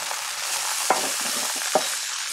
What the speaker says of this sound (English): we're gonna go ahead and flip this burger